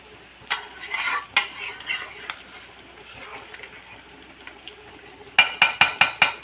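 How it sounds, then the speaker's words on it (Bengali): A pot of biryani with yogurt is stirred, with scraping and rustling through the rice, then a quick run of sharp, evenly spaced metal clinks against the pot near the end, close and clear. "তাই মাঝে মাঝে খুলে খুলে একটু একটু করে নেড়ে দিচ্ছি"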